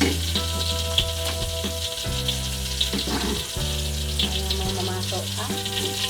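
Ground tomato sambal fries in a pan with a steady, close sizzle, along with faint stirring and a background hum.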